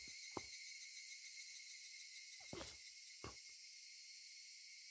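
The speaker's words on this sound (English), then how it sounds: "this is why I don't like cicadas" Cicadas drone in a constant high, shimmering chorus in Higurashi When They Cry Hou, with a few soft low thumps and rustles scattered beneath the steady buzzing.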